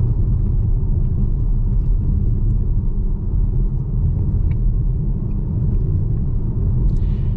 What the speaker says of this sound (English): And this is just about the roughest stretch of the road.